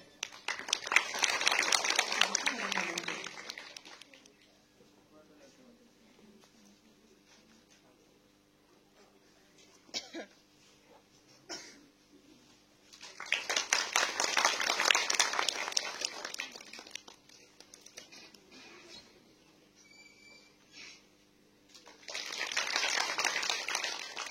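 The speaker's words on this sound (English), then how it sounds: "Let's welcome him with a big round of applause." An audience at a lecture on Northeast Indian cultural studies breaks into applause to welcome a speaker, three separate bursts of clapping that swell and fade, with quieter gaps of faint murmuring between them.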